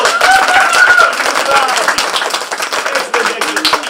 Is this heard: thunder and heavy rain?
no